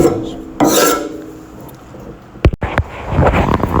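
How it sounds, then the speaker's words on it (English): The cast base plate of a DeWalt DW735 planer is scraped by hand, giving a short raspy scraping stroke followed by quieter rubbing and a few sharp clicks nearby. "I got the surface all scraped off, wiped it off with some lacquer thinner"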